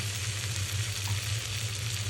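Pointed gourd frying in mustard oil with onion and chili, a soft continuous sizzle with faint crackles, close and steady with no voices.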